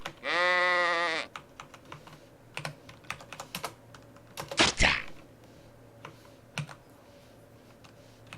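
A sheep in the survival game Unreal World gives one loud, sustained bleat at the start, followed by scattered clicks and thumps and a sharp burst midway.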